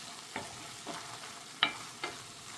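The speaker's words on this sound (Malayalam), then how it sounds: "ഇനി ഞാനിവിടെ എടുത്ത് വെച്ചിരിക്കുന്ന തേങ്ങയും കൂടെ ഒന്ന് ചേർത്തൊന്ന് ഇളക്കിയെടുക്കുകയാണ് ചെയ്യുന്നത്" Coconut being stirred into a shrimp curry masala in a pan, with four separate scraping strokes spaced about half a second apart over a quiet, faintly hissing background.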